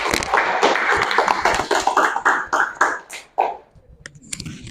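A classroom of secondary-level students claps hands after a group presentation, a brisk scattered round of claps that thins out and stops, close and fairly loud, no one speaking.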